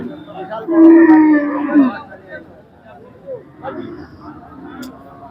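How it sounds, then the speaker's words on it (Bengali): Cattle low loudly at a busy rural cattle market in Monirampur, with a long, strong moo standing out over the crowd hubbub, followed by fainter lows and background chatter. "সুন্দর সুন্দর গরু বিশাল গরু দেখা যাচ্ছে"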